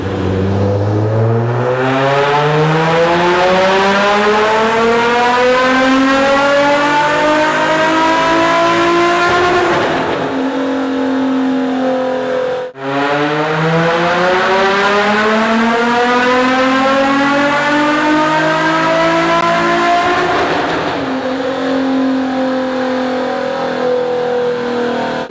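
A Nissan 350Z drift car on a power test revs hard in two long, loud pulls, each climbing steadily in pitch before cutting off, with no talking.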